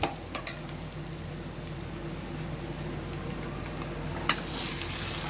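Sliced okra sizzles in a pan with browned onions while an okra poriyal cooks, giving a steady, quiet crackling hiss with a few small pops and no talking.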